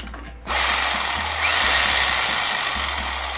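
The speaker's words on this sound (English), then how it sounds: "Jigsaw." Jigsaw powered straight from solar panels with no inverter or batteries, kicking in after a brief pause and then running as a steady, loud, continuous mechanical buzz that climbs slightly midway and holds to the end.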